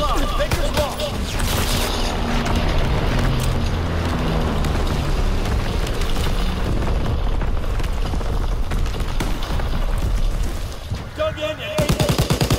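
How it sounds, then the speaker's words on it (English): Artillery and battle noise in Call of Duty WW2: loud, sustained booms and bursts of gunfire roll without pause, thinning briefly near the end before erupting again. "Incoming enemy artillery!"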